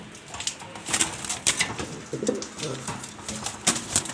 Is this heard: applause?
no